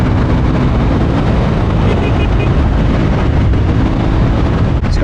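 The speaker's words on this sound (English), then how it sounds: "open it up, wait for them revs to build up" An adventure motorcycle engine roars continuously at high revs, loud and close, buffeted by heavy wind rumble throughout.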